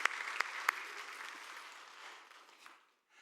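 A church congregation gives a short round of comforting applause, starting with a few sharp claps and fading out within a few seconds, fairly faint and distant.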